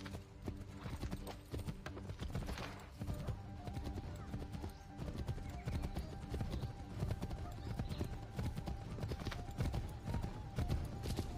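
Horse hooves clip-clop steadily in Assassin's Creed III, a continuous galloping rhythm with occasional whinnies, underneath other game sounds.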